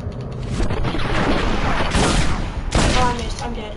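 Dense, loud gunfire from a Red Dead Redemption gunfight, with rapid overlapping shots and booms that roll on without a break, punctuated by sharper bursts.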